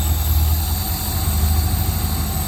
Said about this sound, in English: Just rev it just to settle everything back down again.